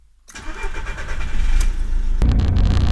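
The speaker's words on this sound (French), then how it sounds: "Attention, je démarre le bolide." An old, rusty Seat Panda cranks and catches, its engine then settling into a rough, loud idle close by, with no talking.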